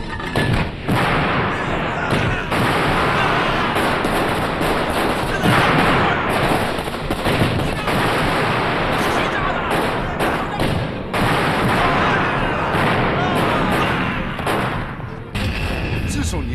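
Cannon artillery fire in a Chinese period TV drama set in Shanghai, a dense barrage of loud booming blasts and rattling gunfire running almost continuously, with brief gaps between volleys.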